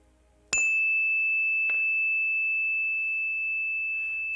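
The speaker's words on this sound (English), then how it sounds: "as the sound of the bell fades into the distance" A single bell is struck, leaving a sustained clear tone, then struck once more softly; the steady ring lingers and slowly fades over several seconds with nothing else around it.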